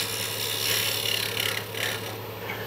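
A hand tool shaves a curve into a wooden necklace and jewelry holder, giving soft, close rasping strokes that rise and fall in repeated passes over a steady background hum.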